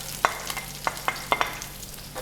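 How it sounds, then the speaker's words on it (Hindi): A large onion sautés in half a cup of oil in a pressure cooker, with a handful of sharp scraping stirs cutting through a steady soft sizzle. "प्याज को हमने सौते कर लेना है, इसको हमने ब्राउन नहीं करना।"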